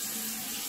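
Tap water runs steadily from a faucet after a dental clinic's noisy water pump was swapped for a quiet stainless steel pump, a constant close rushing stream with no voices.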